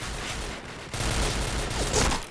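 Rapid gunfire in the online shooter game Point Blank, a dense continuous burst of shots that briefly drops then swells louder, close and harsh with no talk over it.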